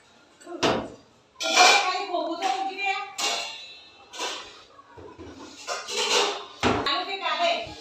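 A pressure cooker is handled and put away in a home kitchen cupboard. Metal clanks and knocks come now and then as a person talks over them.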